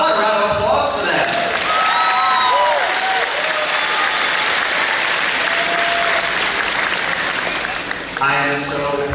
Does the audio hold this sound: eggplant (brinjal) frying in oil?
no